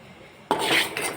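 Flax seeds dry-roasting in a pan on low heat rattle and scrape as they are stirred, a sudden close clattering burst after a quiet moment, then softer scraping.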